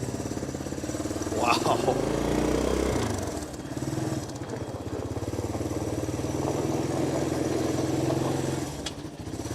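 A 1984 Honda ATC200ES Big Red three-wheeler putters along in third gear at very low speed, its single-cylinder engine a steady, loud, close chugging throughout while a rider briefly exclaims.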